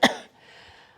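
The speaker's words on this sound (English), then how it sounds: "I'm so sorry I had to cough" A single sharp cough bursts out at the start, followed by a quiet, fading breathy tail and near silence.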